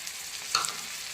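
Garlic, ginger and tomato frying in a pan for a radish chutney, giving a brief, close burst of hissing sizzle with a quick stir in the middle, no voices.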